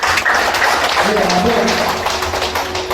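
A seminar audience at a business event applauds, dense clapping and tapping that stays loud throughout, with voices and speech mixed in beneath the claps.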